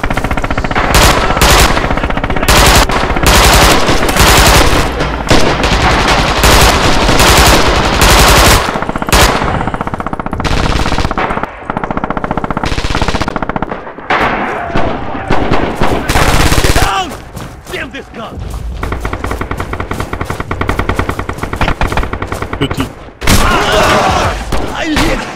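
Close, loud bursts of machine-gun and rifle fire in the WWII shooter Red Orchestra 2, rapid rattling volleys broken by brief pauses and scattered single shots, with players talking in between.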